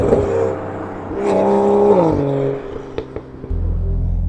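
A BMW M2 GTS with GTS software and a DCT gearbox driving, its engine note swelling as it accelerates and then dropping back with a shift. It settles into a deep, loud rumble at the end.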